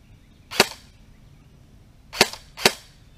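An airsoft gun fires BBs in three sharp, snappy pops, one single shot followed after a pause by a quick pair, close by against a quiet background.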